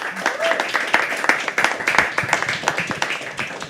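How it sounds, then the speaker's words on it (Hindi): An open-mic poetry audience bursts into applause to welcome a performer to the stage, a dense patter of clapping with a voice briefly heard over it. "एक बार जोरदार तालियों से स्वागत कीजिए शोम का, जब तक वो मंच पर ना आ जाए"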